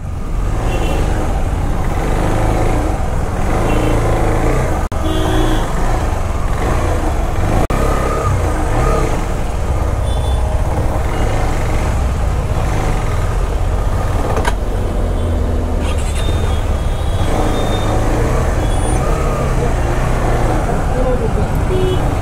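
Dense road traffic on a Mumbai to Khed bike ride during Ganeshotsav, heard as a continuous roar of car and truck engines moving close by, with people talking over it throughout.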